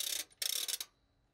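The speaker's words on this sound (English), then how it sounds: "and ratchet." Orchestral ratchet percussion instrument in a theatre orchestra pit, cranked in two bursts of fast clattering clicks separated by a short gap, close and loud, then a quiet tail.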